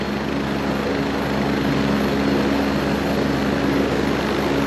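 An Agusta A109E helicopter runs on the ground before takeoff, a steady loud whine and rotor drone holding constant and near throughout.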